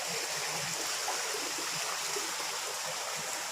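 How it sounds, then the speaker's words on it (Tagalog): Water flows steadily beside a carved stone pyramid outdoors, a constant, even rush of running water with no voices. "Ito tubig"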